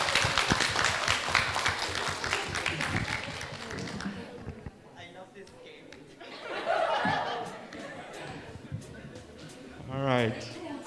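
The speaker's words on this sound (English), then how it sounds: "Give them a big round of applause." Applause from a live student quiz-bowl audience cheering a team, a brief burst of clapping mixed with a few laughs that quickly fades into a quieter room with scattered voices and a short spoken phrase near the end.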